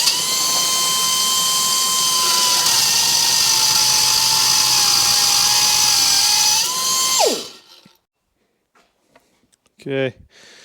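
A power tool cuts a piece of stock for a pulley during a firewood conveyor motor and gearbox build. It gives a loud, steady high-pitched whine for about seven seconds, then spins down abruptly, followed by a few faint clicks and knocks.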